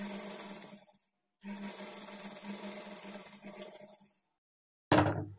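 A sewing machine stitches blouse fabric in two steady runs separated by a short pause, each a dense mechanical whir, followed by a brief sharp burst at the end.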